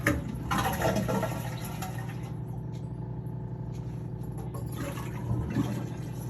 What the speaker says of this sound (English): So we're going to give this a flush.